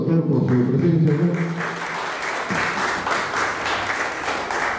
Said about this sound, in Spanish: un aplauso más de reconocimiento al doctor por su presencia acá